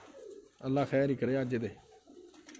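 Pigeons cooing in a fancier's flock of high-flying racing pigeons, a low soft call heard briefly beneath someone speaking close by.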